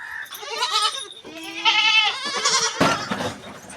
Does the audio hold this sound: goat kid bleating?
yes